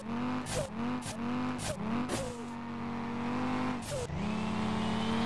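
A car drifts in the SLRR racing game, its engine droning steadily while tires squeal in several short repeated bursts, each followed by revving pitch shifts, loud and close.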